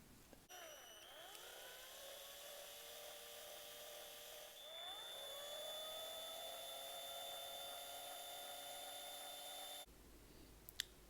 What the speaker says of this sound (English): So we have our pilot holes drilled.